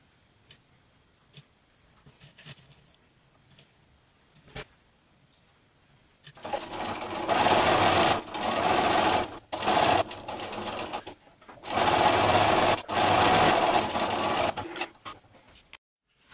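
Sewing machine stitching two fabric bunny ears together, right sides facing, quiet ticks and handling at first, then several loud rapid whirring bursts of stitching separated by short pauses.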